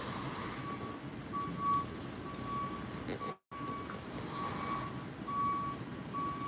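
A bus backs into a spot at a bagel shop on a Labor Day morning, its reversing alarm beeping steadily in an even rhythm over a continuous low engine rumble.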